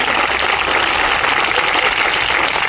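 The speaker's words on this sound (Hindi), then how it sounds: "राज्यपाल साहब के लिए एक बार ताली बजा दो जोरदार" Loud, dense applause from a large crowd for the governor at a public gathering, a steady continuous roar of clapping that stays strong throughout.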